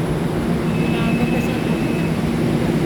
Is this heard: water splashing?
no